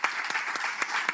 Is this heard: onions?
no